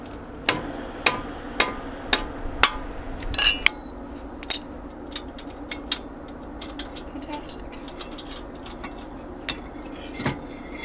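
Bolts on a 2003 Subaru WRX brake caliper being worked loose with a 17mm socket: a run of sharp metallic ticks and clicks in steady rhythm, then sparser taps and clanks close by.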